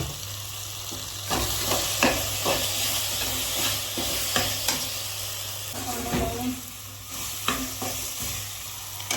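Paneer pulao masala with turmeric powder frying in a pan, a steady sizzle under repeated scraping stir strokes at an uneven rhythm, close and moderately loud, no talking.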